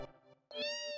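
A cat meows while being petted in Final Fantasy 7, two close, clear meows, the second louder and more drawn out.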